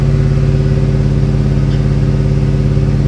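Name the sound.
Ford F150 engine revving with throttle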